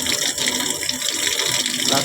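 Steady hiss of pressurised water spraying from a hose, continuous and close with no pauses.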